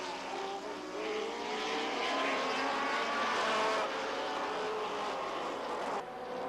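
Can-Am race cars at Mosport Park in 1985, led by big 5-liter Frissbees, run nose to tail through Moss Corner. Their engines make a loud, continuous roar whose pitch sweeps as they pass, with no talking.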